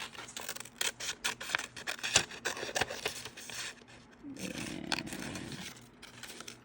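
Scissors snip through printed paper images of little buttons for a junk journal, giving a run of crisp, close cuts followed by a longer, steadier rasping cut.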